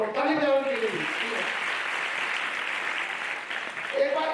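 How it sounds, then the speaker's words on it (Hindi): An audience at a motivational talk breaks into steady clapping, with a voice heard briefly at the start and end around the applause. "अब तो ताली बजाओ"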